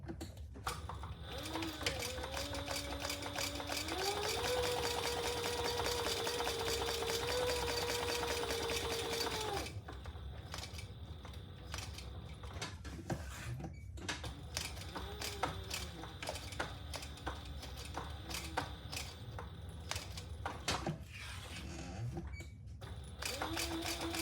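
A sewing machine runs in long steady bursts of stitching around a zipper pocket on a shoulder bag, with a whirring motor that shifts pitch, then short stop-start runs with clicks and handling noises between them.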